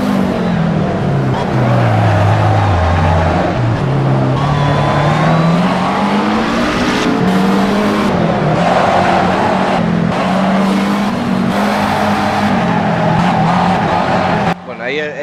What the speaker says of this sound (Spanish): Derrape perfecto, ¿no?